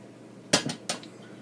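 Two sharp knife strokes cut through a slab of homemade bacon against a board, each a brief crisp thud with a short scrape, close and alone in a quiet room.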